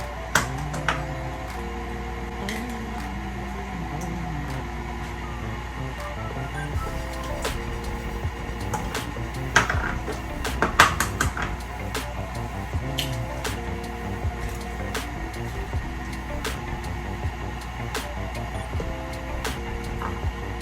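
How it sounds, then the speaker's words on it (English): A stand mixer running on low through cheesecake batter as eggs go in: a steady whirring motor hum with a faint tonal whine, dotted with small clicks and taps, close and even throughout, no speech. "I'm going to add my eggs in one at a time with my mixer on low"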